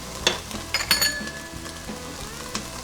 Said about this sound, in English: Got some chopped onions. We'll get this sauteed up.